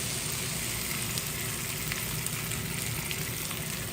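Steady, loud sizzling of meat and potatoes frying in a hot pan on a Luxor ceramic glass cooktop, a continuous crackling hiss with faint pops throughout.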